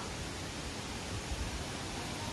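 Inglis Falls near Owen Sound roars as a steady, dense wash of falling water after rain, constant and even throughout with no voices.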